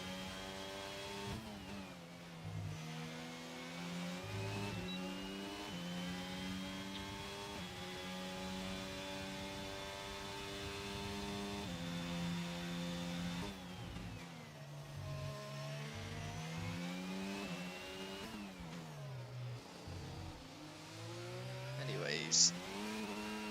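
Formula 2 race cars in a racing game exit the pit lane at the Singapore circuit, their engines droning and shifting pitch in overlapping revs, with someone commentating over them.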